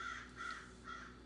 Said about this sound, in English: it's crazy birds out there